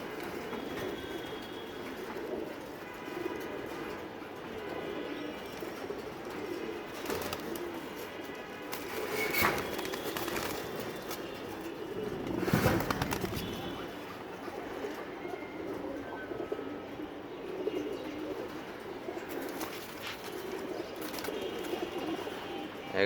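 Caged pigeons coo softly and steadily through a busy aviary, their low murmuring layered with occasional wing flutters and scattered rustling, while a faint rumble like a passing train runs beneath.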